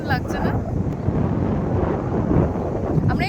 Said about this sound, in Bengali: কি সুন্দর হাওয়া